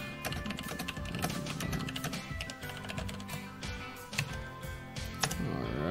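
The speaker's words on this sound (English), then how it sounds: "Now let's start typing." Rapid computer keyboard typing, a dense run of light overlapping clicks and taps with a few louder keystrokes, close and steady throughout with no talking.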